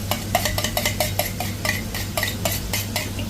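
A pan of garlic butter shrimp shaken over the heat, rapid rhythmic metallic scrapes and rattles over a low steady sizzle and hum, close and fairly loud.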